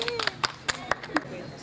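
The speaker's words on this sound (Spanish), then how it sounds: "Un aplauso para mí." A few scattered hand claps at an awards ceremony for a club, sparse and uneven, mixed with nearby talking voices.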